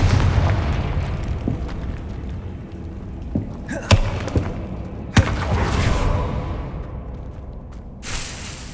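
Confringo blasting spell going off in the Hogwarts Legacy video game: a sharp blast with a booming whoosh near the four-second mark and another at about five seconds, set over a dense rumbling game soundscape, with a smaller pop near the end.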